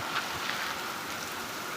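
Heavy rain pours in a steady, dense hiss that holds at one level throughout, with no voices over it.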